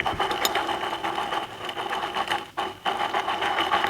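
A dry bearing on an electric commuter bike spins with a continuous rattling, buzzing whir, steady and close, with a brief dip in the middle before it resumes.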